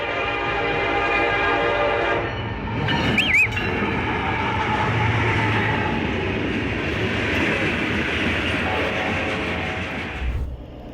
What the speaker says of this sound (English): You don't just watch a heavy freight train, you feel it.